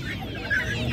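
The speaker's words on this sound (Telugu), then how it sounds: "ఈ కోళ్ళు చూడండి, కొత్త రకం కోళ్ళు అయితే ఉన్నాయి." Chickens, including country hens, cluck briefly among a crowded animal market in Kuwait, one short call standing out above a dense background murmur.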